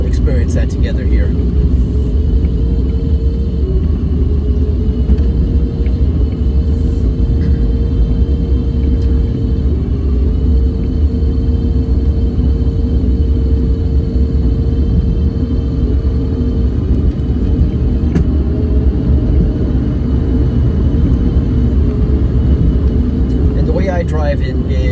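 Steady low rumble of an Electra Meccanica SOLO electric car being driven on a long drive, a continuous road and motor drone holding evenly throughout with faint intermittent ticks.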